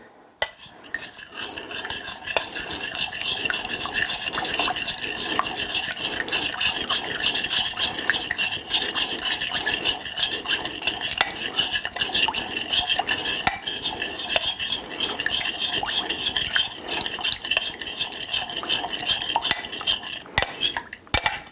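Spoon stirring a thick homemade keto cheese mixture in a pan, a steady scraping and clinking rhythm that carries on without pause, close and fairly loud, with no talking.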